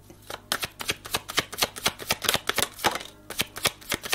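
Tarot cards are shuffled and drawn in a run of crisp, close riffling snaps, quick clustered bursts with short gaps between them.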